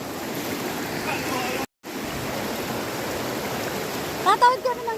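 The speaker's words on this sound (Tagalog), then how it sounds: "Yan ang ilog." A river in the Sinapulan area of Sultan Kudarat, near Tacul Cave and its waterfalls, rushes in a steady broadband wash, briefly cutting out midway, with a few short voices and splashes near the end.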